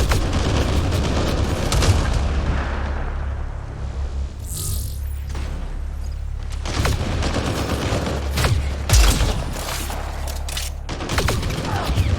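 Heavy gunfire in Mass Effect Andromeda during a fight with a crowd of pirates: sustained rattling volleys and loud booming shots, dense and close, with almost no talk over it.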